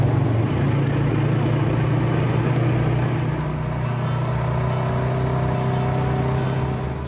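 A car drives along a road on a sunny day with a steady engine rumble and tire roar, constant and close throughout with no talking.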